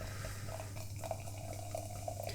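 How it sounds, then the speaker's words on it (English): Anchorage Brewing Anadromous black sour beer is poured into a glass, a soft continuous trickle and fizz running throughout over a low background hum. "we'll pour it out into a glass and see what we have"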